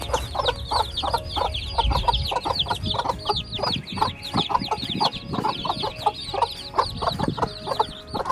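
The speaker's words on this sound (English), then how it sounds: "This is the first time we've ever hatched chicks at home." Newly hatched chicks, hatched at home without an incubator on a homestead, cheep in a rapid, constant stream of high chirps. The chirps overlap close by with a few soft thumps beneath them.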